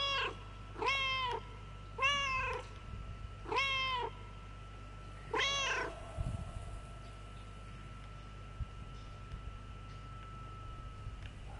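A cat in the video game Another Sight meows five times in a steady, evenly spaced series, clear and close over a low constant background hum, then falls quiet.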